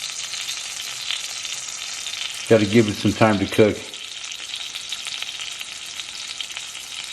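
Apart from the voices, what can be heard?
frozen trout deep frying in bacon grease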